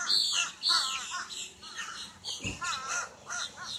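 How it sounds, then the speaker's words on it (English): Crows cawing loudly and repeatedly close by, harsh calls overlapping in a busy flock with no talking. "these birds around me are so loud"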